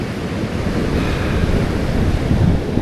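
Sea waves break and wash into a cove at high tide, a loud, close, continuous roar of surf mixed with wind buffeting the microphone.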